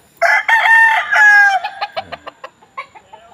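A Boston Roundhead gamefowl rooster crows loud and close in a small backyard, a long drawn-out call that breaks into a string of quick clucking notes.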